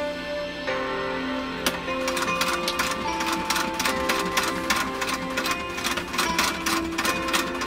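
A Singer sewing machine, either a 66 or a 301A, stitches through a single layer of orange biothane coated webbing. The motor whirs steadily while rapid needle clatter runs through most of the stretch, close and fairly loud, with no talk.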